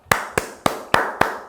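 One person claps five sharp, close claps at a steady, unhurried pace, each crisp and evenly spaced with nothing else around them.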